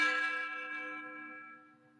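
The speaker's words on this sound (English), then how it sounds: "Do you hear the bells?" Spooky bell in a virtual haunted house, a single resonant toll that rings out and slowly fades, moderately loud with no talk.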